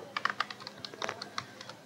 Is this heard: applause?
no